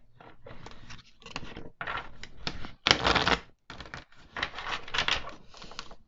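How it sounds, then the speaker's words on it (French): Tarot cards slapped down and shuffled in a string of sharp, crisp bursts of riffling and snapping, close and fairly loud, with brief pauses between and no talking. "Je suis désolée pour le claquage des cartes."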